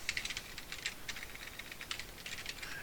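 Quiet typing on a computer keyboard while entering a name in a Visio 2016 text box, with short bursts of light clicking keystrokes and brief pauses between them, heard alone with no talk.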